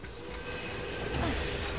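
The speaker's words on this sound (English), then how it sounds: "Nothing stops this train." Train in the video game Borderlands 2, a continuous rumbling roll with hissing and faint metallic squeals, steady and close, no talk over it.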